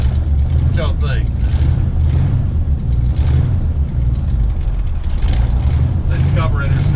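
Engine of a 1968 Ford F100 pickup idling after a cold start with a recently adjusted carburetor, a loud, close, steady low rumble that runs throughout. A voice speaks briefly over it.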